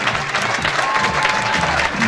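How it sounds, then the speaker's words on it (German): A stadium crowd at an athletics meet during a women's 400 m hurdles heat, a dense, loud wash of clapping and applause that builds in pace, with a commentator's voice over it. "Rhythmisches Klatschen auf der Gegenseite und schnelleres Applaudieren jetzt auf der Zielgeraden"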